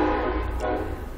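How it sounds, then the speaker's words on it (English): A train passing in the background gives off a brief low rumble and a steady horn-like drone. A faint voice can be heard behind it. "Sorry about that train in the background."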